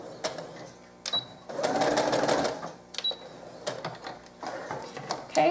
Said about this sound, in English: I'm just going to sew forward a little bit, backstitch, and then take it off the machine.